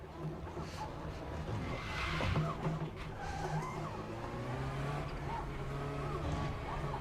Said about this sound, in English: This car almost sounds a bit like a rally car around there.